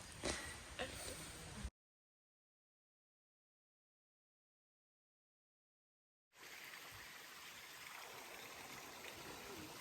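A brook beside a campsite on the Appalachian Trail in southern Maine flows with a constant rushing, gurgling wash. It is broken by a few seconds of silence before the steady water sound returns.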